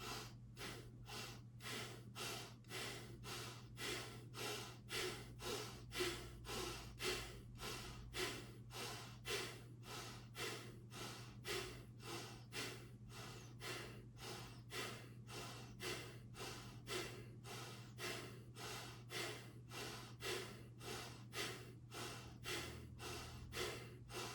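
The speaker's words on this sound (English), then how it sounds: "Just ease your way into the first part of the practice with the Bhastrika breathing, the bellows breath." Bhastrika bellows breathing during a hot yoga practice: rapid, forceful nasal breaths pump in a steady, even rhythm of roughly two per second, close and clear, continuing without talk.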